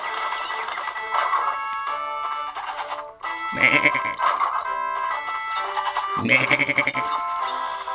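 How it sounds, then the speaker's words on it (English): A goat bleats in several loud, wavering calls over continuous music-like tonal sound from a handheld device, close and overlapping. "Talking to my goat friend."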